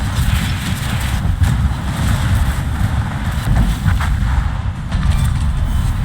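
Secondary guns on the warship Molotov fire in a naval battle video game, giving a steady, dense rumble of distant booms and muffled reports that runs on without a break.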